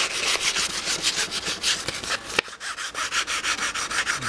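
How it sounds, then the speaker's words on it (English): Sandpaper of 400 grit rubbed lengthwise along a fishing rod shaft, a steady rapid back-and-forth scratching with rhythmic strokes, close and fairly loud, with no talk. "So take your 400, go to the high side, and do this. Sand it lengthwise."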